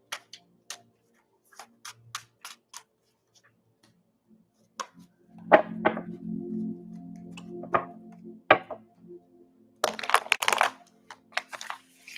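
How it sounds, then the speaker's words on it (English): A deck of cards is shuffled in several short crisp riffling and snapping bursts, close by, with brief pauses between them and a longer rustling shuffle in the middle. "Let me shuffle these cards."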